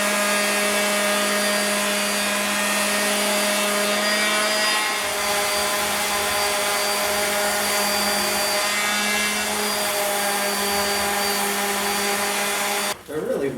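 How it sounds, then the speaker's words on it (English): A power sander with 60-grit paper whines steadily on bamboo, with a harmonic drone and gritty rasp, running continuously before cutting off abruptly at the end. "So I need to do some sanding on these"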